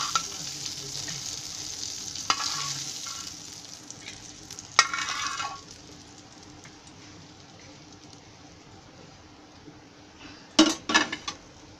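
Bangda mackerel pieces coated in rawa fry in oil, with a steady close sizzle broken by a few sharp clinks of a utensil against the pan and a cluster of louder scrapes near the end.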